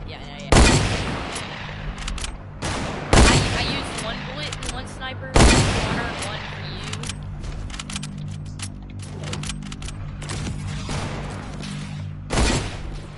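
Sniper rifle shots in an online shooter game, several sharp, loud cracks spaced a few seconds apart, each trailing into a rumbling echo, over busy game noise.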